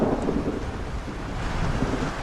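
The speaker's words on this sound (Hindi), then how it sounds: "बाहर तो बहुत तेज बारिश हो रही है।" Heavy rain pours steadily with a deep rumble of thunder underneath, a dense, loud, continuous wash of storm noise with no voices.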